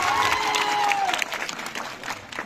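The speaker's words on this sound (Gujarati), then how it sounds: "સાહેબ માટે જબરજસ્ત તાળીઓનો વરસાદ થઈ જાય" A crowd claps for their hero at a village entry event in Bogaj, a short burst of applause with a whistle-like tone at the start, fading toward the end.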